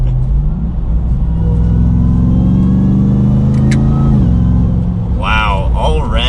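A 2021 RAM 1500 TRX pickup truck accelerates in sport mode with paddle shifting. The engine drone climbs steadily in pitch, then drops at a shift, and a voice briefly joins near the end.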